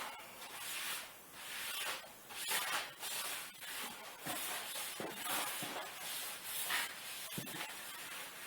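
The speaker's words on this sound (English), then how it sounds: "rub the chalk back and forth, make sure it's stuck" Chalk is rubbed back and forth over a pounced paper flame pattern laid on wood, making a continuous close scratchy swishing with slight rhythmic surges and no talking.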